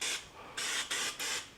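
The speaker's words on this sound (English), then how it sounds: "when I need to give something a spray with olive oil" A pump sprayer filled with olive oil spritzes food while stuffed peppers are being made, giving four quick close hissing bursts in a row with brief gaps between them and no voices.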